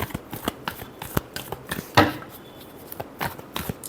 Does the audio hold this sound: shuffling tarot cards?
yes